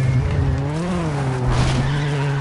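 Rally car in the video game WRC 7 skidding with locked brakes, a loud sustained tire squeal over a droning engine note that wavers in pitch, close and continuous with no talk.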